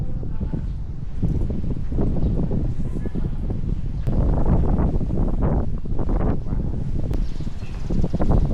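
Blustery wind on an overcast day in Cebu buffets the microphone with constant low rumble and gusty surges throughout, loud and close, with voices mixed in.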